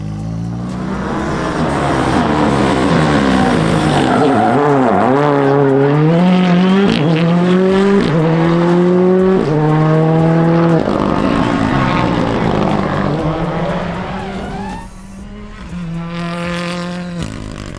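An FIA R5 rally car races flat out on a Barbados rally stage, its engine revving loud and close with rapid gear changes rising and falling in pitch, briefly easing near the end before pulling hard again.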